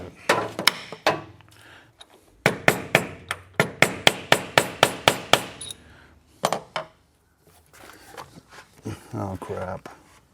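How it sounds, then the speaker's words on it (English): A burst of rapid, regular hammer blows on wood and metal while installing a vise, about a dozen sharp strikes in a row, followed by a few isolated knocks and some talking. "we're gonna do a little bit of hammering here."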